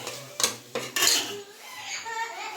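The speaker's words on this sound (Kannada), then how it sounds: "ಅದಕ್ಕಿಂತ ಮುಂಚೆ ಇದನ್ನು ಚೆನ್ನಾಗಿ ಮಿಕ್ಸ್ ಮಾಡ್ಕೊತಾ ಇದ್ದಾರೆ" A spoon scrapes and clanks against a pot while ground masala is stirred in for a mushroom and vegetable sambar, with a few sharp metallic knocks followed by softer scraping.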